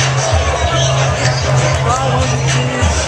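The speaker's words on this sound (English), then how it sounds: "this crowd." A packed crowd at a beer pong tournament keeps up a steady, dense hubbub of overlapping voices and chatter, loud and close throughout.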